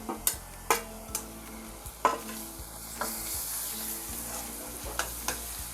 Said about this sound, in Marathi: कांदा लाल झाला आहे आता त्याच्यामध्ये आलं लसूण पेस्ट केले ती टाकते